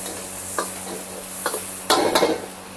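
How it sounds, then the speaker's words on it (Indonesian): Chili paste stir-fried in a pan: steady close sizzle with a few spatula scrapes and knocks against the pan, growing louder and busier toward the end. "Kita tumis."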